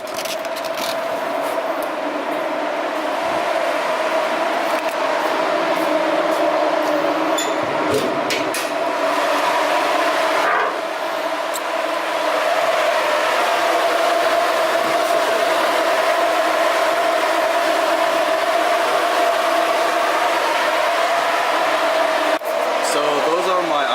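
Loud electric cooling fans running on a Nissan S13 with an SR20 engine, a steady roaring whoosh of air that holds for the whole stretch, with a few faint clanks and taps over it.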